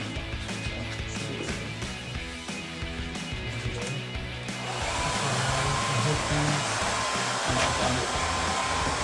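A hair dryer blows continuously nearby on tape while a car rear wing spoiler is installed, steady and loud, with a brief shift in airflow partway through as it's moved closer.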